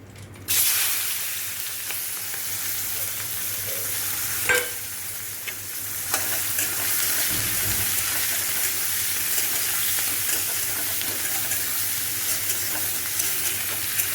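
Onions frying in hot oil with chilli and bay leaf for an egg and potato curry; a sudden sizzle bursts in, then settles into a steady close hiss with occasional clinks and scrapes of stirring.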